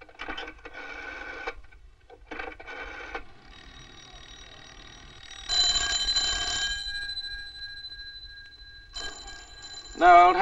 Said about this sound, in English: No, old Harris can't be back yet or he'd answer that phone